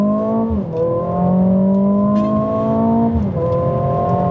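A 2021 Mercedes-AMG CLA 45 launching from a race start and accelerating hard, its engine a loud sustained rising drone heard from inside, dipping briefly at each gear change.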